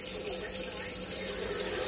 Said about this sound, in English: my water's running, not cold, but it's not running as hot as it normally does